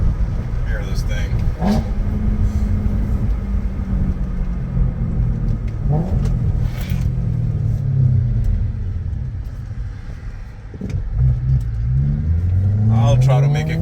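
A BMW E90 M3 with a six-speed manual driving with windows open, its engine rumbling loudly and rising in pitch through revs and gear changes while someone talks over it.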